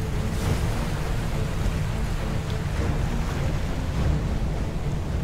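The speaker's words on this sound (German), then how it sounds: "Ich kann eine Flutwelle auslösen." A rushing, roaring wash of water for a flood wave in toy play with PJ Masks figures, steady and loud throughout with heavy low rumble, like surf or strong wind, and no voices.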